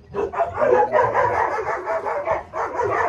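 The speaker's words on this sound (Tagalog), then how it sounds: "Bad trip yung mga aso natin, ingay no." Several dogs bark and yap continuously close by, overlapping in a noisy chorus with no pauses.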